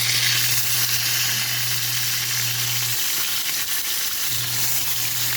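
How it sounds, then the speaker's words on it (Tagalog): Tilapia fries in hot oil with a steady, loud sizzle and hiss that runs unbroken from start to finish, close up and with no voices. "Pritong tilapia."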